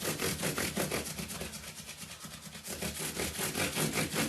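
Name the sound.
polishing bass guitar with 1800 micro mesh pads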